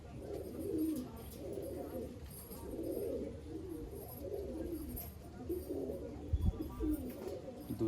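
Pigeons of a flying breed coo in soft, repeated rolling phrases close by, a steady rhythm of low calls with faint background noise and a brief knock near the end.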